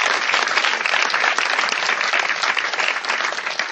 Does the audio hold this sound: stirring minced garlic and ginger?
no